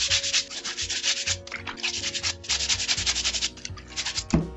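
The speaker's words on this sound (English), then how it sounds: "Just give it a rub, clean, not too hard on it, and then just rub it like that" A stained cotton t-shirt is rubbed firmly against itself by hand during washing, giving rapid rhythmic scrubbing strokes, loud and close, with brief pauses between bursts.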